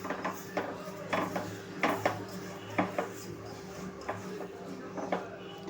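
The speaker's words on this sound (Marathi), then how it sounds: "आता आपण ह्याच्यामध्ये भाजलेले तीळ टाकूया आणि लगेचच मिक्स करायचं आहे आपल्याला।" A spoon clinks and scrapes against a pan as roasted sesame seeds are stirred into melted sugar, with quiet, irregular taps in a calm kitchen.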